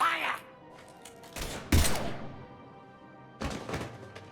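Gunfire in the Mass Effect video game: a few sharp, heavy impacts ring out in separate bursts, with decaying reverberant tails and ambient quiet between them.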